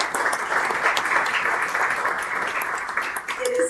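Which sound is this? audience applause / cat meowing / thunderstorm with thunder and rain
audience applause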